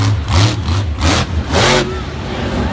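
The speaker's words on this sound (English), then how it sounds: "that truck's popping a little bit in the air" A monster truck engine at a Monster Jam freestyle run in Tampa revs in loud surging bursts with popping, sputtering between throttle blips, the engine close to failing.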